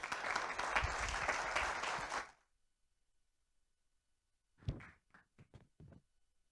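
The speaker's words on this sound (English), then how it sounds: "Let's give another round of applause for all of our contestants." An audience at a university oratory competition applauds a contestant, a dense burst of clapping that stops abruptly after about two seconds, followed by silence and a few faint knocks or bumps.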